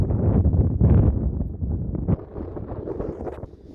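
Wind gusting across a boggy farmer's field on a windy day, a loud, steady rumbling buffet that surges and drops, close against the microphone and heard alone.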